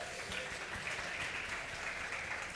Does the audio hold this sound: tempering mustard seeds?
no